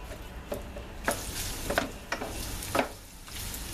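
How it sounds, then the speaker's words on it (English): Sausage browning in a pan for a hearty breakfast, a low continuous sizzle punctuated by several sharp spatula scrapes and taps, fairly quiet and close, no talking. "we're just going to brown this sausage up"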